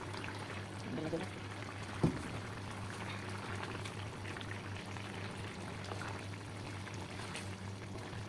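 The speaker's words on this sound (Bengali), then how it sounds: "তো এখন মাছ ঢেলে দেবো" Fish is poured into a pot of boiling curry, with a soft low bubbling simmer throughout, a brief splashy knock as the fish goes in, and faint background voices in a quiet kitchen.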